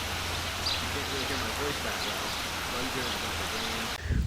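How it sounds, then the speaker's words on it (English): Heavy rain falls steadily outdoors, a dense, continuous hiss with faint bird chirps in the background, cut off abruptly near the end by a close handling bump. "Okay, so it's raining right now."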